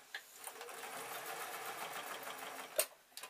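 A sewing machine stitches steadily in a fast, even mechanical rattle, quiet and close, ending with a sharp click.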